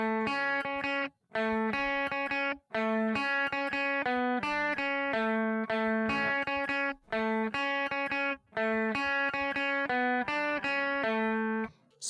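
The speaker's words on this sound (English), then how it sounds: "there's a little guitar solo part that comes in, and it sounds like this" An electric guitar plays the solo line from a song, clear sustained distorted notes in repeating phrases broken by brief pauses, solo with no other instruments.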